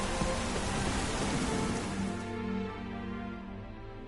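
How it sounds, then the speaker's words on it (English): Steady rain falls in a video game world, a dense, loud wash of drops that eases slightly after a couple of seconds. "Rains like this come sowing time."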